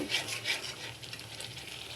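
Spice paste for a Bengali pabda fish curry fries in a pan while being stirred, giving a steady close sizzle with soft scraping strokes that swell and ease.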